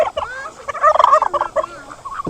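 Several farm turkeys gobbling in quick rattling bursts, loud and close, with overlapping calls peaking midway through the short burst.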